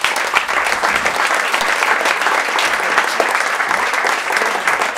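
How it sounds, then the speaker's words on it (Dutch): A studio audience gives a loud, sustained round of applause for the Dutch author Jan van Aken, dense clapping from many hands close by that stays even throughout, with no voices over it. "Dames en heren, mag ik een applaus voor Umberto Eco van de Lage Landen,"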